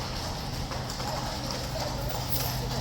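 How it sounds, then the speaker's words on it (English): Hooves of a mounted trooper's horse clip-clopping steadily on pavement at Horse Guards in London, with a busy crowd murmuring around it. "He is the first horse, look."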